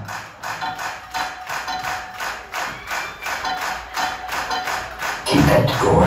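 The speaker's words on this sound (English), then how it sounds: "Now, let's add some claps." A concert audience at the Bowery Ballroom in New York City claps along in a steady, even beat over live music, and the crowd swells louder near the end.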